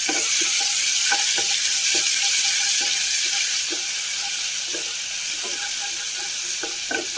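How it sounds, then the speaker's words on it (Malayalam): Crushed ginger, garlic, fennel and green chilli sizzle and fry in a pan for a biryani, a steady close hiss with scattered sharp crackles and stirring clicks throughout, no voices. "അതിലേക്ക് ഒരു മുക്കാൽ സ്പൂണോളം ഇഞ്ചി വെളുത്തുള്ളി പെരിഞ്ചീരകം പച്ചമുളക് എല്ലാം കൂടി ചതച്ചതാട്ടോ"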